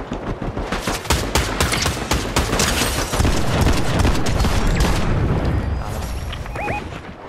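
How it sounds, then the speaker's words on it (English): A purple shotgun fires again and again in the video game Fortnite. Loud, sharp blasts come in rapid, irregular bursts with booming hits, and a few thin electronic tones sound near the end. "switched over to the purple shotgun and hit him with these shots"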